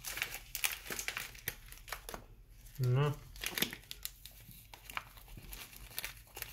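Plastic bags crinkle and rustle in a home kitchen while meat is marinated for grilling, with close, sharp crackling bursts throughout and a person speaking briefly.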